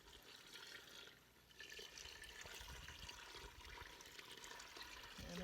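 About nine and a third cups of water pour into a pan while making pie filling for canning, a steady, soft gushing splash that swells slightly toward the end, quiet and with no talking.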